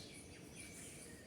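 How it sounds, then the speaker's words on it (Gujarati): Sparrows chirp faintly in the distance, with thin high twitters scattered over a low background hum, quiet and without any talking. "ચકલીઓ ચીચી બોલે છે."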